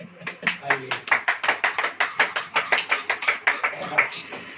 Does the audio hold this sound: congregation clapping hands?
yes